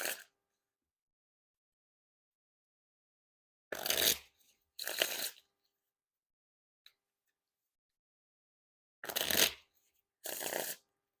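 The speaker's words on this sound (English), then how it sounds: "And now time for the Riffle Shuffle or Bridge Shuffle." A deck of Orbit playing cards is riffle shuffled in four crisp, close bursts of fluttering card snaps, grouped in two pairs with quiet gaps between, and no voices.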